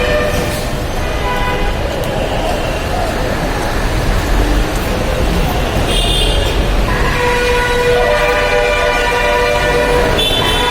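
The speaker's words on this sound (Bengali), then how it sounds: "এই যে মেট্রো রেল স্টেশন" A metro rail train at the Mirpur 10 station in Dhaka makes a loud, continuous rumble with steady whining tones and horn-like notes, set against busy street noise.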